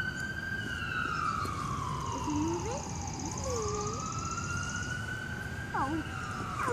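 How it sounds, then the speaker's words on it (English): An emergency vehicle siren wails steadily in the distance, its tone sliding slowly up and down beneath outdoor background noise, with a child's brief vocal sounds over the top. "I hear a siren too."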